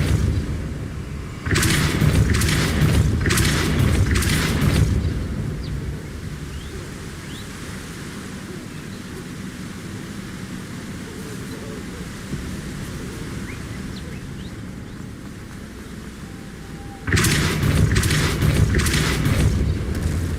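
In Hogwarts Legacy, the Depulso spell lets out loud rushing blasts of rumbling noise in two bursts, one near the start and one at the end, separated by a quieter, low ambient drone.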